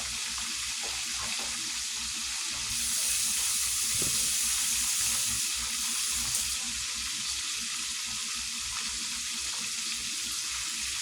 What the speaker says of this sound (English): You rinse it out.